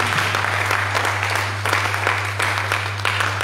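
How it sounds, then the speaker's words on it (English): A church congregation claps together in a steady, dense burst of hand clapping that continues evenly throughout, with a low electrical hum beneath. "Clap for Jesus, clap for Jesus."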